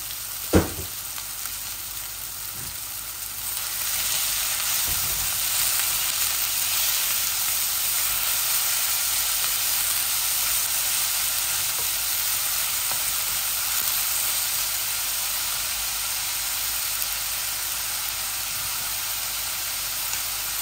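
Onion sizzles in a frying pan as a loud, dense, hissing fry that holds steady and close throughout, after a brief knock at the start, with no one talking.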